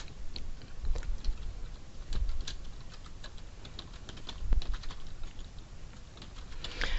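A domain name typed on a computer keyboard, with close, crisp key clicks in uneven bursts and short pauses, plus a few heavier thumps, and no voices.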